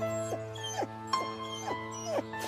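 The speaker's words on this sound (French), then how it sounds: "Et ça, c'est pas un chien blessé peut-être?" An injured cocker spaniel whimpers in several short, rising yelps spaced through the clip, heard close over a steady background hum.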